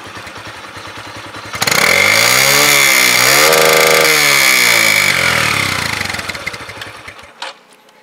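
A 2018 Suzuki Hayate 110cc special edition motorcycle engine starts, then revs strongly with rising and falling pitch before settling back down; it is loud and close, with no talking.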